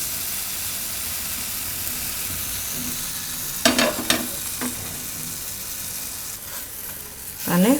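Mango pudla, a sweet Gujarati pancake, cooks on a hot griddle with a steady soft sizzle throughout, broken by a few sharper bursts of clatter and scraping as it is handled and turned.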